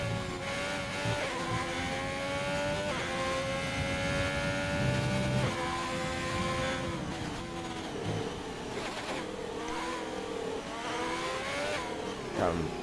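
F1 car engine on a flying lap in a racing video game at the French round, a loud, high whining roar rising through gears with brief drops between shifts, continuous and close.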